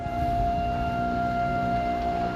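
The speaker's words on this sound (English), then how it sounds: "The fire hall has this loud siren, and you can hear it from one end of town to the other." A loud, steady fire hall siren wails on a single sustained tone with no pauses, with no voices.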